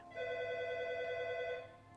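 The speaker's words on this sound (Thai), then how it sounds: "โทรศัพท์โทรมา รับสาย" A phone rings in the 1980s heist video game American Theft 80s: a single sustained electronic ringing tone lasting about a second and a half, clear and steady with nothing else over it.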